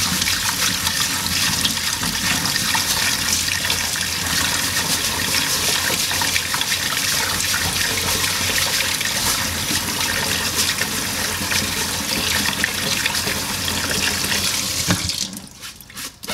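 Tap water runs steadily and loudly into a sink while rose seeds are rinsed in a strainer, a continuous rushing splash that cuts off abruptly near the end.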